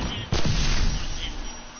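A gunshot in the video game Truck Pursuit: a single sharp, loud crack bursts out close by and leaves a short booming tail behind it.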